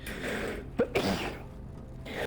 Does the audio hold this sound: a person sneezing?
yes